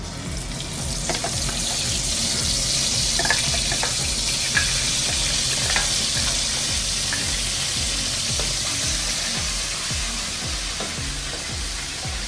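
Onion paste frying in hot oil for a chicken and potato kurma gives a steady, loud, broad sizzle up close, with occasional faint stirring taps over the constant hiss and no voices.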